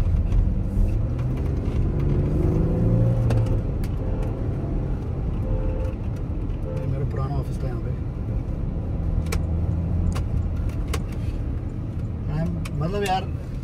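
A Porsche Cayenne SUV engine hums steadily at low revs while driving, with constant road noise and occasional faint knocks, and someone talks over it.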